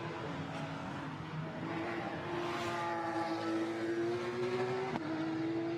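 Porsche race car at Zandvoort in a Porsche Sprint Challenge Benelux race, pulling away after a pit stop: a faint, distant engine whine climbing steadily in pitch through the gears, with a brief break near the end.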